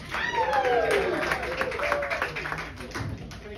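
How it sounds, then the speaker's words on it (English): Comedy club audience at Laughing Skull Lounge in Atlanta clapping for a comedian, steady dense applause with some cheering voices and crowd noise throughout. "Y'all clap like y'all know me"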